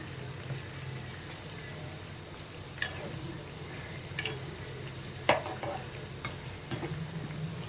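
Potato bread snacks fry in oil over medium heat, giving a low steady bubbling sizzle with scattered light clicks and pops, quiet and close, no talking.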